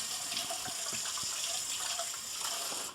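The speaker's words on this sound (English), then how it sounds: "now I have to wash my hands" A kitchen tap runs steadily while hands are washed under it, a soft continuous splashing hiss with small droplet patters, fairly quiet and unbroken for the whole stretch.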